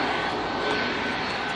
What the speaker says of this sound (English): Is that a plane coming in or going out, I wonder?